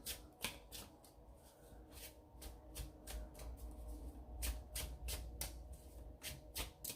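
Tarot cards are shuffled by hand in quick, crisp riffling bursts, repeated in a steady stream of sharp flutters at close range with no voices.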